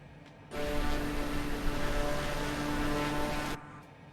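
Small propeller plane engine at full throttle in a flight simulator, a steady droning hum with a constant tonal whine that cuts in abruptly, holds for about three seconds, then stops.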